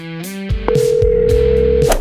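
A telephone dial tone starts after a short burst of phone effects, holding one steady loud tone before cutting off abruptly.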